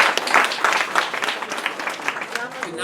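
Applause from an audience gathered for a Russian-speaking community celebration in a New York City event space, steady dense clapping under overlapping voices and chatter for nearly three seconds.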